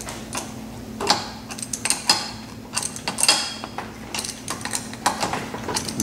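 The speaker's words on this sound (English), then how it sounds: "Now I'm using the adjustable wrenches to hold the head" Adjustable wrenches tighten a bolt and nut on a hydro cart kit wheel, giving repeated metallic clicks and ratcheting creaks close up, steady and uneven in rhythm, with no talk.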